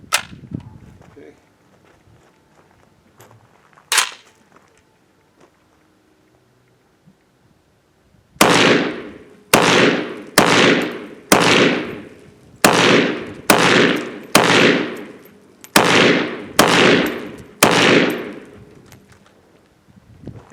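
A Gibbs rifle fires a rapid string of about ten loud, sharp gunshots in a steady rhythm, each cracking and then ringing out briefly, preceded by a single earlier shot and quiet handling noise outdoors.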